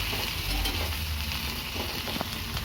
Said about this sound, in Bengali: এবার পেঁয়াজটা দিয়ে ভাজবো।